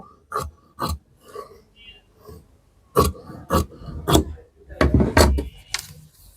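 Scissors cut fabric along marked lines for a churidar, giving a series of short crisp snips and rasping slices in irregular bursts, close and fairly loud.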